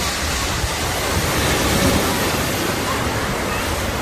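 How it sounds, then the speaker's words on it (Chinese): Sea waves roar in a constant, full wash of surf, loud and close, with wind rushing across it. "听听海浪声。"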